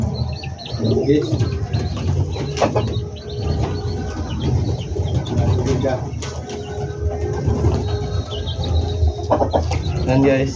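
Hens cluck and chirp softly amid a busy, noisy yard, with small bird calls scattered throughout and a low rumble of background noise.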